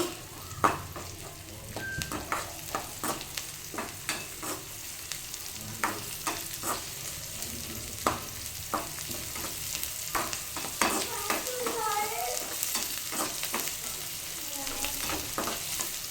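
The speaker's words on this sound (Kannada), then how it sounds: "ಈರುಳ್ಳಿನ ಹಾಕ್ಕೊಂಡು ಸ್ವಲ್ಪ ಫ್ರೈ" Onions frying in a pan for masala sweet corn, a continuous sizzle broken by frequent stirring clicks and scrapes, close and steady with no speech.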